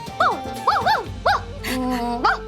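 A person's voice imitates a dog barking, giving several short yappy woofs in quick bursts, then a drawn-out howl-like tone at the end.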